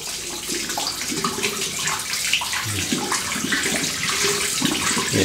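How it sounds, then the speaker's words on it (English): Water runs steadily from a tap while a shaving brush is rinsed, a close, continuous splashing hiss with small irregular gurgles and no talking. "it's taking a lot of water to rinse that"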